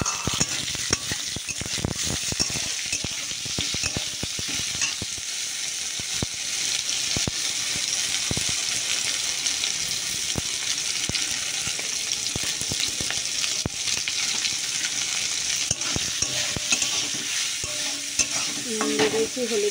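Onions and taro stolons fry in a pan, a steady dense sizzle with frequent scraping stir strokes running throughout, close and fairly loud, no talking.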